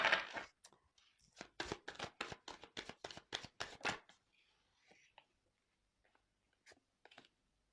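Tarot cards shuffled by hand give a quick run of crisp riffling flicks for about four seconds, then a few faint handling taps and card slides in near silence.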